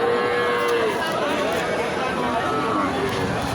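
Cattle low at an outdoor cattle market, where bulls stand in the mud, their moos coming from a distance through a steady hubbub of crowd chatter and movement.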